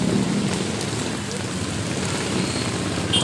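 Rain falling steadily, a continuous broad hiss with soft patter that stays even throughout, with faint background voices.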